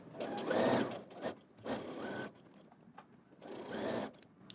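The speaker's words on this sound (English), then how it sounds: "now you're gonna go to your sewing machine and you're going to stitch" Sewing machine stitching a T-shirt in several bursts of rapid mechanical whirring, separated by brief pauses, close and clear.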